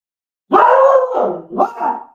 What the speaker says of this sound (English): he's barking in the kitchen